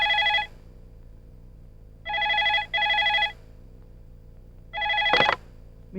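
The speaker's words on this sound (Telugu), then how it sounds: "యాదవ్ ఫోన్." A telephone rings in three bursts of electronic trilling, each about half a second to a second long with pauses between, close and clear over a quiet background, with a brief knock near the end.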